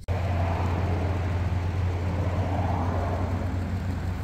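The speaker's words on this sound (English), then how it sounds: "You guys are gonna have to excuse the road noise." Road noise inside a moving truck, a steady low engine drone and tire rumble that holds loud and unbroken throughout with no talking.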